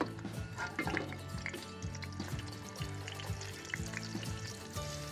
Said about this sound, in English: Now we are gonna cook this in a non-stick skillet.